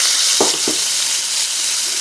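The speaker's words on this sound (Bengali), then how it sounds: "দিয়ে দিচ্ছি কাঁচা লঙ্কা, এরপরে পেঁয়াজ কুচি, দিয়ে দিচ্ছি ক্যাপসিকাম, টমেটো আর কড়াইশুঁটি" Green chilli, onion, capsicum, tomato and peas frying in a wok for veg fried rice, a loud continuous close sizzle with a couple of stirring scrapes early on.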